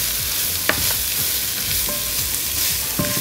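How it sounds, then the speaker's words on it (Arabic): Vegetables and bacon are stirred in a hot frying pan, a steady loud sizzle broken by occasional spatula scrapes and knocks against the pan, with no voices. "هقلب كل ده كويس مع البيكن"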